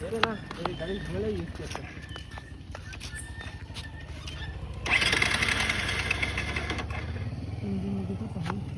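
An overheated car engine that will not start is cranked, sputtering and turning over raggedly, then growing louder and rougher partway through, while people talk over it.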